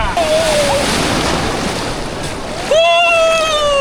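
Sea surf at Bakkhali beach, a steady broad wash of waves and wind throughout, with a whistling tone heard briefly near the start and again, louder, toward the end.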